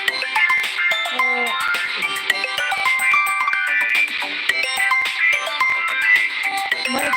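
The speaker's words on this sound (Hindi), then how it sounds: "ये फोन आ रहा है" Incoming-call phone ringtone, a bright repeating electronic melody of tonal notes played continuously and fairly loud, with no talking over it.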